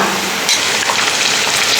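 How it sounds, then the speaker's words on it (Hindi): Three hundred grams of chicken frying in a pot with whole cumin and lightly browned onion, a steady close sizzle and crackle with no talk. "चिकन हम फ्राई कर रहे हैं।"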